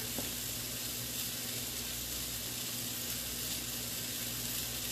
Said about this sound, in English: I'm going to do a tablespoon of butter